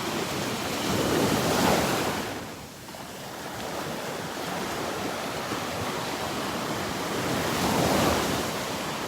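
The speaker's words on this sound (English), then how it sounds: "Loving the sounds of the waves out here this morning." Ocean waves roll and break on a beach at North Naples, Florida, in the morning, a loud broadband wash that surges, recedes and surges again, with some wind buffeting the microphone and no talking.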